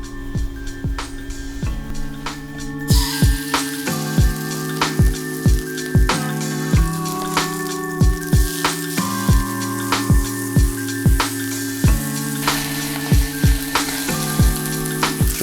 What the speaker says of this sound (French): cuire le saumon à feu doux avec de l'huile de sésame